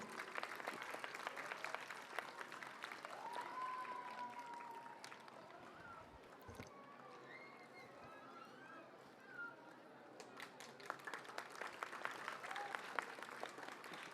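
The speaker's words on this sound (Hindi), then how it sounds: "तालियां बजती रहनी चाहिए।" An audience at a school function applauds steadily, a dense sustained clapping that carries on for several seconds with a brief lull midway, heard from within the hall.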